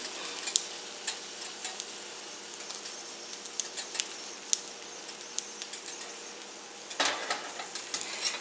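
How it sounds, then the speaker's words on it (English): A tortilla crisping in a pan with hamburger grease sizzles steadily at low volume, with scattered light clicks and scrapes and a louder clatter of the pan or utensil near the end, with no talking. "I'm going to turn it down a little bit so the other side gets cooked through without scorching my whole tortilla"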